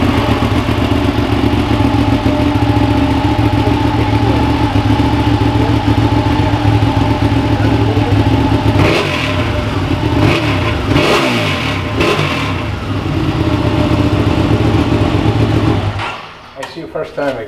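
A Ducati 959 Panigale on its factory exhaust runs loud and close, a steady throbbing idle breaking into several quick throttle blips and revs before the engine cuts off near the end.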